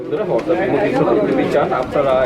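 Pigeons cooing at a busy pigeon market, repeated soft throaty coos close by, mixed with crowd chatter and voices of people talking.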